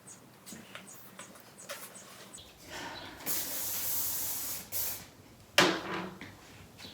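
Aerosol hairspray misted over freshly curled long hair, heard as a few close, breathy hissing bursts, the longest lasting about a second, with quiet handling noise between them.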